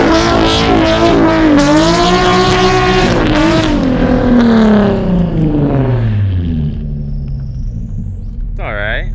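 Nissan 350Z engine revving hard during a clutch-kick drift, loud close-up harmonic climbing then falling in pitch over several seconds, with a brief tire-chirp near the end; people talk faintly.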